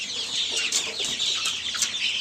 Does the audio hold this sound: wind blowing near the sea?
no